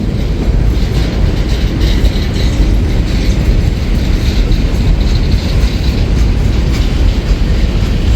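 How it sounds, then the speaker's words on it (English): A manifest freight train rolls into the Global 3 yard in Rochelle, its cars rumbling loudly and close by with a steady clatter and metallic rattling throughout. "we've got a manifest train here going into Global 3"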